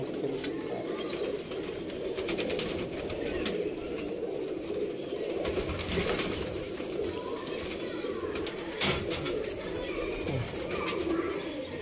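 A loft full of pigeons cooing in a steady low chorus, with scattered wing flutters and brief chirps throughout.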